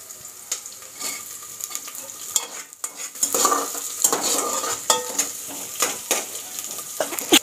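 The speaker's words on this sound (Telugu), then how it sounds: "పచ్చిమిరపకాయలు వేసుకుంటున్నాను" Green chillies go into a frying pan and are stirred: a spoon scrapes and clinks against the pan over a light sizzle, close and moderately loud, in uneven strokes with no talking.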